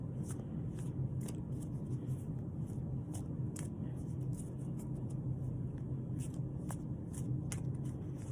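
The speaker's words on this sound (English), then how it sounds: "let me set this camera down so we can shuffle the cards" Uno cards being shuffled by hand, a steady run of quick papery riffles and snaps close to the microphone over a constant low rumble, with no talking.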